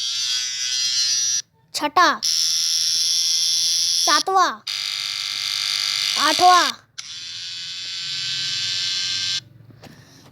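A buzzing electric hair clipper effect plays in repeated bursts of a few seconds each, separated by brief gaps, while a voice counts aloud between them.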